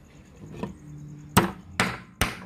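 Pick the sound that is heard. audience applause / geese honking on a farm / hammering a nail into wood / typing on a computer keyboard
hammering a nail into wood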